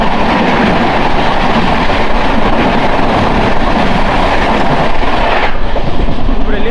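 Superfast express 12845 from Bhubaneswar to SMVT Bengaluru rushes past on the track with a loud, close, continuous roar and wheel clatter that cuts off sharply near the end.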